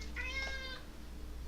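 A pet cat lets out a single short, faint meow that rises and fades within a second, over a low steady room hum, with no one talking.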